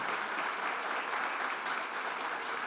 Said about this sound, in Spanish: Les pido un fuerte aplauso para la conferencia